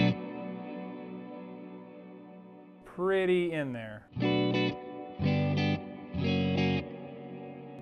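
An electric guitar runs through a Wampler Ethereal delay and reverb pedal, with the tone knob back and the delay set past nine o'clock. A held chord gives way to a bending phrase, then three separate strummed chords, each trailing long echoes. Someone briefly speaks.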